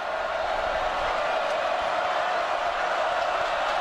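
A dense, steady roar of a stadium crowd cheers at a Florida Gators college football game against the LIU Sharks, a continuous wash of noise without distinct peaks.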